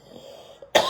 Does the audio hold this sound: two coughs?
yes